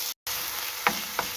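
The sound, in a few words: onion and garlic frying in homemade olive oil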